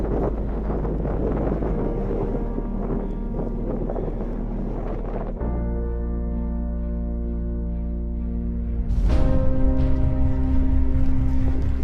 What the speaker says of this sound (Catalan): Fa bastant fred, fa vent